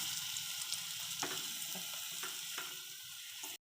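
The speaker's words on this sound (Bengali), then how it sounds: "ভাজা হয়ে গেছে, এবার আমি এগুলোকে তুলে নিব একে একে।" Chana dal fritters fry in a hot wok with a steady, fairly quiet hiss and crackle and a few faint clicks, then the sound cuts off abruptly near the end.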